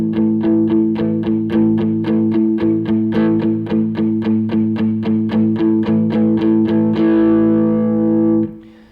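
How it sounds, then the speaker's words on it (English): Palm-muted power chords on an electric guitar through the back pickup with distortion, chugged in a fast, even rhythm of about two dozen strokes, then a ringing open chord that fades out; loud and close, no voices. "You take that same power chord and mute it."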